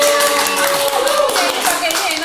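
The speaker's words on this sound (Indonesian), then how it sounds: "Tepuk tangan dong." Clapping from a small group of hands rises briefly under overlapping voices during an Indonesian music-class event, with dense, steady patter throughout.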